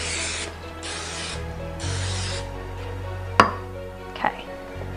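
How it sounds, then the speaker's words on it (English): Cooking spray is hissed in two or three short bursts to coat a baking dish, followed by a couple of sharp clicks and taps close to the microphone with no talking. "just coat lightly with cooking spray"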